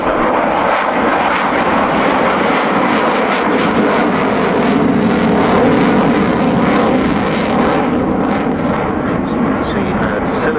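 An Avro Vulcan bomber in camouflage paint flies past at the 2012 Farnborough Airshow, with a loud, steady jet roar filling the whole stretch while a commentator talks over it.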